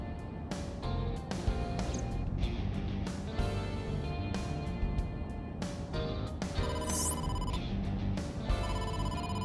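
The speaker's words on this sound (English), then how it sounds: "incoming call from the boss" Incoming-call phone ring from the AI: The Somnium Files video game, a steady electronic ringing tone that repeats through the stretch over a dense game music bed, with no one talking.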